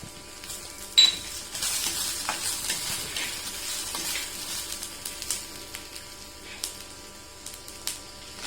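Cumin, dried red chilli and onion sizzle and crackle in a hot pan with oil, a steady fry with scattered pops and a few stirring scrapes, close and moderately loud throughout, with no talking.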